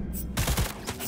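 Several loud gunshots in Cyberpunk 2077 gameplay, a quick cluster of close bursts over a short stretch, with no talk over them.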